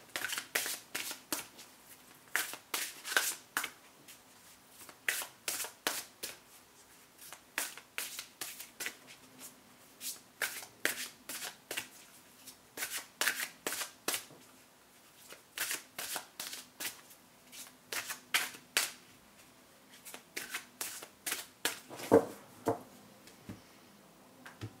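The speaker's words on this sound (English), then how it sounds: "Need a few more shuffles here." Tarot cards being shuffled by hand, close and quiet, in steady bursts of riffling with short pauses between them, continuing without talk.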